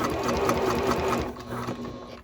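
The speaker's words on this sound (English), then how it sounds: "And I sew across." A sewing machine stitches across a tote bag with a fast, even mechanical chatter, close and loud, then slows and stops at the end.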